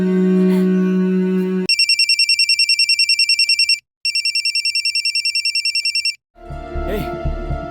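An electronic telephone rings in rapid trilling bursts, two long ring cycles separated by short pauses, loud and close, with voices and noise before and after.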